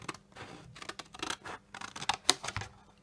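Scissors snip through a simple everyday cardboard box in quick, irregular bursts of close, crisp cutting and scraping, with brief pauses between strokes.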